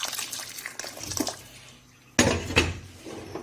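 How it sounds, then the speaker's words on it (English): Hot water poured into a soup pot while making garden egg leaf soup with palm oil, heard as a short watery splash with clinking pot sounds, strongest in a loud burst near the end. "So I'm putting the hot water inside now."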